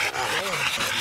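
A Kelpie-cross hunting dog pants rapidly and steadily just after catching a wild pig on a hunt, breaths close and continuous with rough outdoor noise behind.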